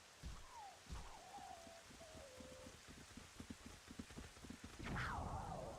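Rain falls in the video game Zelda Twilight Princess, a quiet pattering hiss beneath scattered thuds, short pitched gliding tones and a rising whoosh near the end.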